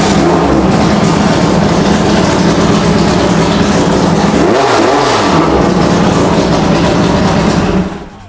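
A loud, close overhead-cam hot rod engine roars and revs hard, with a rising and falling surge midway before the sound drops off at the end.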